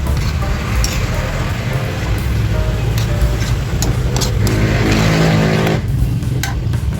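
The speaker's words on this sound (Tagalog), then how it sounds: "Pasensya na kayo guys sa ingay kasi katabi lang namin guys ang kalsada." Steady road traffic from a street right beside a house, a continuous low rumble with passing cars swelling and fading, occasional higher whooshes, and light kitchen clinks mixed in throughout.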